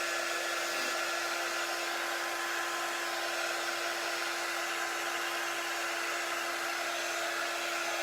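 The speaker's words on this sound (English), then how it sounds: "the blow dryer is so much louder than the quick dry tool" A hair dryer runs continuously at a steady, loud whine with a strong constant hum and broad airy rush, no pauses or voices.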